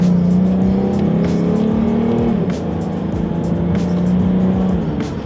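A 2017 Ford Mustang V6 engine drones steadily and loud from inside the car, its pitch climbing then dropping sharply at a quick paddle-shifted gear change before pulling on again.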